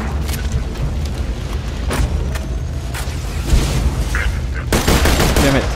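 Gunfire from the Borderlands 2 video game, a dense, loud stretch of shots and booms that rolls on throughout and swells near the end.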